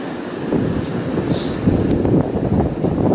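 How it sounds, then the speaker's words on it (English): Gusty wind rumbles across the microphone in a steady low roar at a driftwood collecting spot, with faint rattling and a brief hiss partway through. "It's a little windy."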